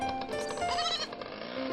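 A goat bleats close by on a farm, a single wavering cry lasting most of the moment, loud and clear with no talking over it.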